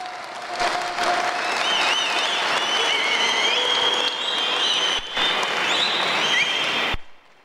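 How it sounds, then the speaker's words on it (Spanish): Audience at an Alcoholics Anonymous event at Hacienda Nueva Vida in Mexico applauding a comedian, steady close clapping with a few whistles and cheers over the top, cutting off abruptly near the end. "¡Hola, sí, aplausos!"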